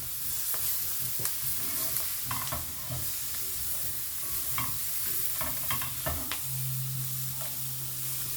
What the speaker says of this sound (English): And now I'll just add the potatoes.